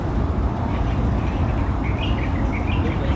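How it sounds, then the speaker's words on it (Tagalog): Faint bird chirps ring out in a park over a heavy, rumbling background of outdoor noise, coming as a short run of calls partway through. "may nakuhanan din ako ibon"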